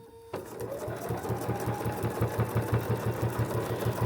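A sewing machine stitches a quilted potholder made from jelly roll strips. The rapid, even mechanical chatter starts abruptly after a short pause and keeps a steady rhythm close by.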